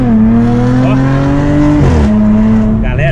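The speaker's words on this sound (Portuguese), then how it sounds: "ficou muito bonito o barulho do carro" An Audi A7 fitted with a straight-pipe exhaust revs hard and close up, its loud raspy engine tone climbing and falling through a couple of sharp rev changes, with a brief voice over it.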